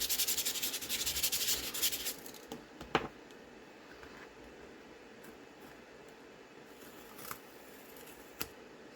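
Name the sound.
sanding a lapbook craft piece to remove shine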